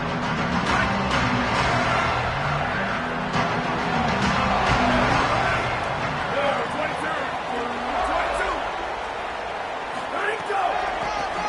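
Stadium crowd noise at a college football game, a steady broad roar of spectators that holds throughout while a commentator talks over it.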